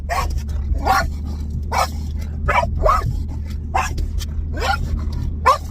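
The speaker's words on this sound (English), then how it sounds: "There's a dog in the car right next to us." A dog barks repeatedly at close range from a nearby car, sharp yips and woofs in an irregular burst over a low engine hum.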